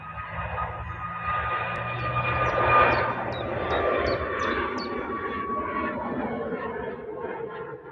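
A Jet2 airliner in silver, red and white livery passes at Manchester Airport with a loud, steady jet roar that swells and fades slightly, heard alone at moderate distance.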